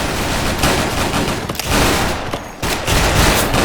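Dense, continuous bursts of rapid gunfire with dull booms from a G36C rifle in a video game, sustained nearly throughout with only brief dips, loud and close.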